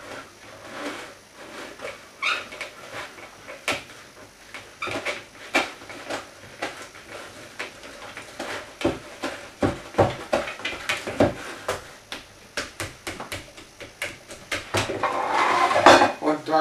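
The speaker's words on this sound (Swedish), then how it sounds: "Och så rör jag om." Batter being stirred in a bowl, a utensil clinking and scraping against the sides in quick repeated strokes that grow faster and louder toward the end.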